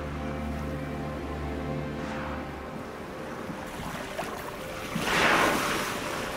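Ocean surf off the Korean coast, a steady wash of waves with wind, one wave building and breaking louder near the end, no voices.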